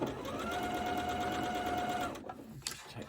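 Sewing machine running steadily while stitching a Japanese fabric quilt, a close, fast, even whirring hum for about two seconds before it stops and the fabric is handled quietly.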